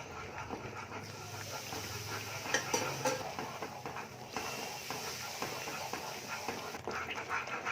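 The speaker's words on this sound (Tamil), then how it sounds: "நீங்கள் கிண்டுறதை மட்டும் நீங்கள் விட்டுறாதீங்க, கிண்டிகிட்டே இருக்கணும்." Ghee Mysore pak batter stirred continuously in a pan, a steady bubbling, frying hiss with repeated scrapes and clinks of the spoon against the metal, fairly close and even throughout.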